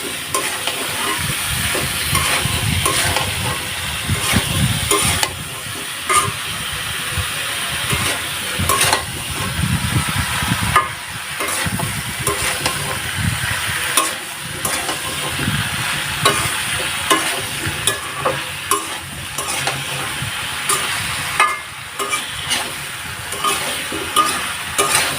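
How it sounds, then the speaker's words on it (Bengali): Eggplant pieces are stirred and turned as they fry in a pan. A loud, continuous sizzle runs under frequent scraping and clattering strokes of a spatula. "তো এভাবে আমি নাড়াচাড়া দিয়ে নেব, উল্টিয়ে পাল্টিয়ে সুন্দর করে।"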